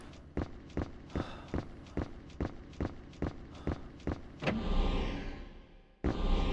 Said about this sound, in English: the creepy silence is only broken by the sound of Richard's footsteps and his breathing